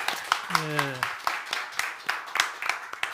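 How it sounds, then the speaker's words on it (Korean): Steady rhythmic clapping from a church congregation, a string of sharp hand claps repeating for a few seconds with a brief tonal sound near the start. "우리 감사의 박수를 한번 다시 한번 올려드리겠습니다"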